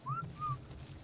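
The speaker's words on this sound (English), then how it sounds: "Whistle passive. Whistle follow." Two short rising whistle tones, one after the other, from a player command to a tamed dinosaur in the survival game Ark, with a low game hum underneath and no talk.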